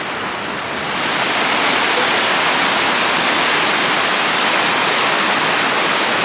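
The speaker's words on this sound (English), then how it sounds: "look at that lovely river coming down from the mountains" A river flows down from the mountains with a loud, dense, steady rushing roar that swells slightly after the first second, heard alone without voices.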